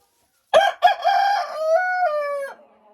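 A rooster gives one loud, close crow after two short clucks, with the long drawn-out call ending abruptly in otherwise quiet surroundings.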